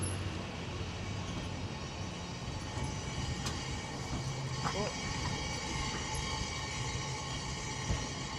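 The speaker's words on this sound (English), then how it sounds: "the scariest part of being on this is when the trains pass each other" Trains rumble steadily through an underground station on the lower level beneath Grand Park in downtown Los Angeles, with a continuous close roar, faint squeals and a brief horn-like tone near the middle, while people talk faintly underneath.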